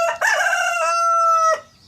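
A rooster gives a single loud, close crow lasting over a second, starting with a short broken note and then holding a strained, sustained cry that cuts off abruptly.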